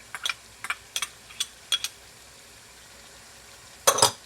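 Garlic and onions going into a pan for Guyanese-style cabbage and chicken: sharp clicks and clatters of a utensil against the pan come every half second or so over a faint sizzle, ending in a louder scrape.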